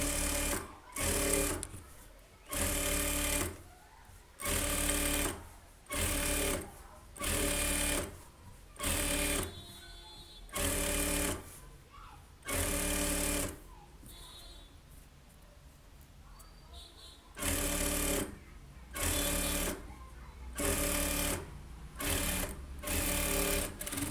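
A sewing machine runs in repeated short bursts, about a dozen stitching runs separated by brief pauses, as blouse piping is folded and sewn along the edge of a lined blouse. Close and steady, with no talk.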